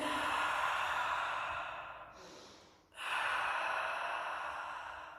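Breathing during a seated Pilates waist exercise: one long, loud exhale tapers away, then there is a brief pause and a sharp inhale followed by another long exhale, all close up with no speech.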